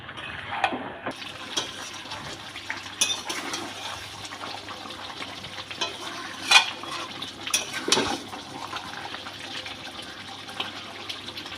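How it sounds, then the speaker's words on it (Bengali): Water is poured into a thin chicken curry after the meat has been browned, a soft gushing pour with a few clinks of utensils, fairly quiet and without talk. "এবার জল দিয়ে দেবো"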